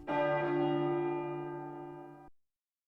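A church bell in the 1996 PC game The Hunchback of Notre Dame is struck once, its rich, ringing tone sustaining and slowly fading over about two seconds before stopping.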